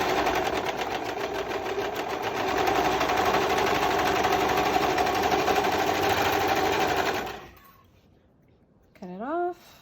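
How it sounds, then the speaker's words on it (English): A home sewing machine stitches a shorts waistband in one steady, loud whirring run of about seven seconds, then stops; a voice speaks briefly near the end. "I might as well just sew the waistband for the shorts as well too"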